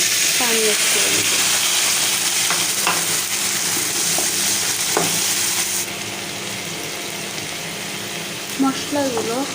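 Dry spices stir-fried in a pan with a splash of water for singara filling give a steady sizzle and frying hiss throughout, with brief scraping stirs and occasional faint voice-like tones over the cooking noise.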